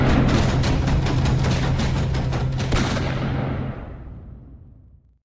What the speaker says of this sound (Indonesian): suara derap kaki dan tembakan itu terdengar semakin jelas